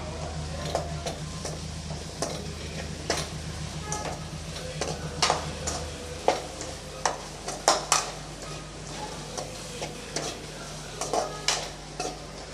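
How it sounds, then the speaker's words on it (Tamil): Eggplant pieces stirred and sautéed in a pan for a village-style dry anchovy fish curry, a soft continuous sizzle broken by sharp, irregular clinks and scrapes of a spoon against the pan, close and alone. "இப்போ அதை சேர்த்துக்கலாம் கொஞ்சம் வதக்கி விட்டுடலாம்"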